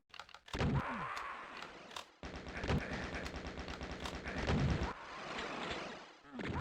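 Shotgun blasts and rapid chain gun fire trade back and forth in a video game duel, loud bursts of repeated shots with sharp single booms, a commentator talking over the action.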